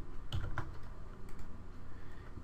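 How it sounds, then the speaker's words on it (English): A few quiet keystrokes on a computer keyboard, two close clicks near the start followed by a fainter tap, in an otherwise still room. "just simply click or hit Control V"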